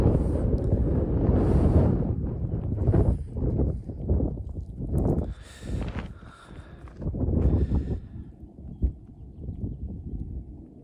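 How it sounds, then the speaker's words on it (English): Gusty wind buffets the microphone in uneven bursts of low rumbling roar, rising and falling, with no voices. "because it's windy"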